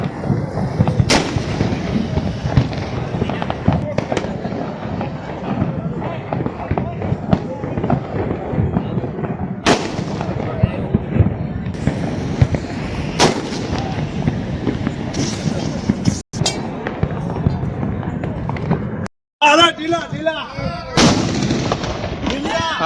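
Firecrackers set off one after another outdoors, giving sharp, loud bangs and crackles in irregular bursts over a steady din, with people's voices talking throughout.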